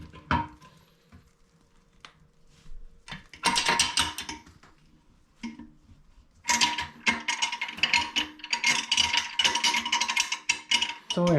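Bolts on a toilet tank are tightened in turns with a ratcheting tool during a flush valve repair, giving bursts of rapid close clicking separated by short pauses.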